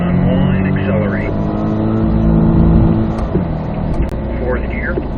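A C8 Corvette accelerating on a race track, its engine droning loud and steady with rising harmonic tones, heard from inside with an instructor talking over it.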